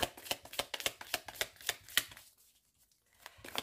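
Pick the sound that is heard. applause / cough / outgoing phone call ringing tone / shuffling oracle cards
shuffling oracle cards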